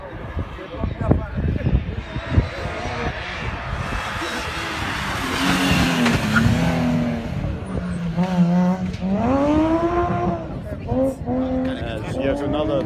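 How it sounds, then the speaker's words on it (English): BMW rally car racing past on a rally stage, engine revving and shifting through gears as it approaches and fades, loud and close, with someone talking throughout. "As yet another BMW goes past us"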